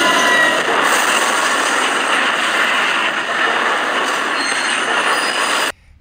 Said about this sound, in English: the train derails and crashes into the MBTA 906 at Boston Back Bay Tunnel